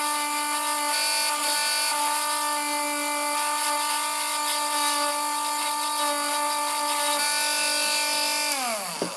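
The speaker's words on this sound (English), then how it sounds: "the Dremel bites into it, but it's just very, very swollen" A Dremel rotary tool grinds into a swollen denture, a loud, close, high-pitched whine holding steady, then winding down sharply in pitch at the end as the tool stops.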